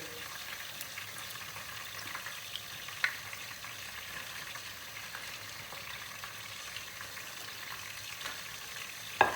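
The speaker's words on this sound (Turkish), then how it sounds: "Hemen sıcak yağ atıyoruz. Attığımız gibi hemen çeviriyoruz." Pieces of bişi dough fry in hot oil in a pan, giving a steady close sizzle and hiss that runs throughout, with a few faint clicks and taps. No one speaks.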